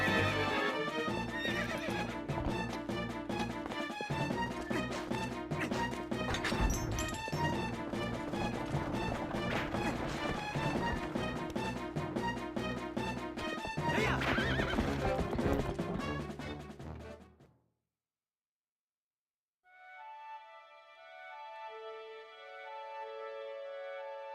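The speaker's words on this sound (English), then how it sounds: "I'm trying to get off the horse" A horse in a video game neighs and its hooves clop steadily beneath loud, dense game music. The music then cuts out, and after a short silence a soft, chiming melody comes in. No one speaks.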